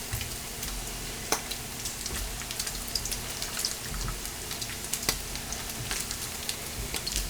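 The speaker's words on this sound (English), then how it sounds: "And it doesn't take long to fry the bacon." Bacon strips in irregular pieces frying in a pan outdoors, giving a steady crackling sizzle with scattered sharp pops, fairly quiet and alone.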